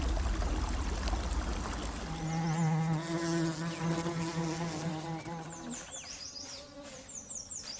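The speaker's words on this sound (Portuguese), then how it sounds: "Abelhas japonesas." Japanese honeybees buzz in a forest hive, a close, droning hum with wavering pitch that swells for a few seconds, then thins as other insect and forest sounds take over, with no talk.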